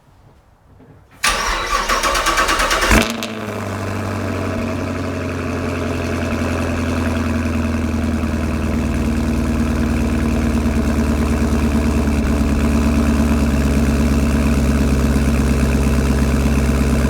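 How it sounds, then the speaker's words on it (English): A 2017 Chevrolet Camaro 2SS 50th Anniversary Edition cold-starts with a loud cranking roar that flares high, then settles into a deep, steady rumbling idle that holds close and alone. "I'll give you a cold start."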